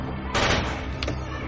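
Gunfire sound effect in a TV soap opera scene: a loud burst of shots followed by a shorter second blast a moment later, over a dense, noisy background.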